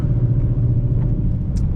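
Ford Mustang GT V8 driven in a snowy blizzard, a low steady engine rumble heard from inside the cabin, continuous and moderately loud with no talking.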